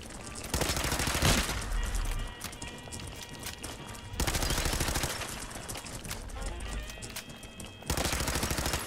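Rapid auto pistol gunfire in a video game, fired in long sustained bursts with a brief pause between them, loud and close over a dense, noisy backdrop.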